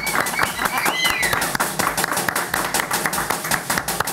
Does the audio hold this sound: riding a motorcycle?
no